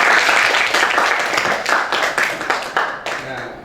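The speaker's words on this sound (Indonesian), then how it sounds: "Tepuk tangan untuk kasih." Classroom students clap for a classmate, a close, lively round of many hands that thins to a few scattered claps before stopping, with a voice briefly under it.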